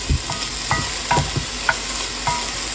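Onions and small yellow and orange peppers sizzle in a pan for vegetable soup, a steady frying hiss broken by occasional stirring scrapes and taps, close and moderately loud with no talking.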